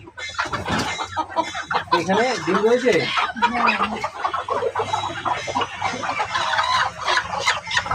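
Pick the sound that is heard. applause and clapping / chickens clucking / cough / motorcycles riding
chickens clucking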